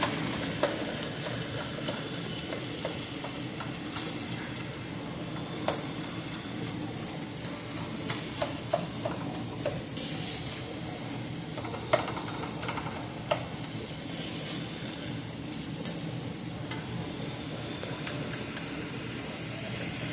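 Italian sage sausage and ground beef broken up and browning in a pan give a constant low sizzle, with scattered clicks and taps from a utensil over a steady background hum.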